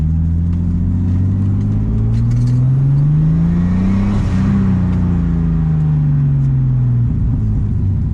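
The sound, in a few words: turbocharged forged M50 BMW E30 accelerating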